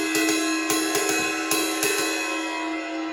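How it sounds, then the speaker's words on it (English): A drum set ride cymbal is tapped several times in an uneven rhythm, each stroke adding a bright ping over a continuous shimmering ring, close and moderately loud, with no talk. "The other cymbals on is a ride cymbal,"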